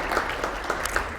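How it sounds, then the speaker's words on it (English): Audience at a community breakfast applauding the people who prepared the meal, a short burst of light, scattered clapping from a small room, moderately quiet. "why don't we give them a hand of applause for that"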